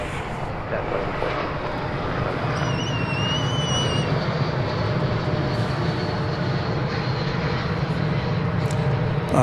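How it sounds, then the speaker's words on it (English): An American Airlines Airbus A321 airliner arriving at DFW airport, its broad engine roar steady and fairly loud throughout with a brief higher whine partway, no talk over it. "It's an American Airlines Flight 1591 arriving from San Juan, Puerto Rico on an Airbus A321."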